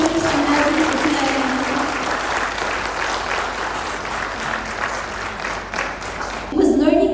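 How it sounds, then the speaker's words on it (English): Warm applause from the audience at a school commencement ceremony, steady and sustained across the hall, swelling slightly again near the end. "Can you please give a warm applause to your teachers and everyone for PIIQ?"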